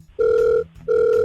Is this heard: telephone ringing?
yes